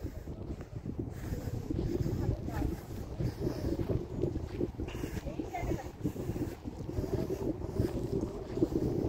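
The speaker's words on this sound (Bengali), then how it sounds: "আহ কি হাওয়া!" Strong sea wind at a beach buffets the microphone in a continuous, rumbling roar with gusty swells, loud and close throughout.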